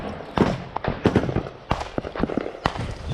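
Incoming mortar rounds in a combat zone against Russian forces land as a series of sharp, loud, close impacts and blasts in quick irregular succession, with brief shouted voices between them.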